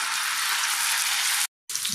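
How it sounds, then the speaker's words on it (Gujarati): Ground chutney hitting hot oil with cumin in a pan gives a steady, close, loud sizzle that runs unbroken, cuts out briefly, then resumes; no one speaks. "જે ચટણી વાટીને રાખી છે એ આમાં ઉમેરી દેવાની"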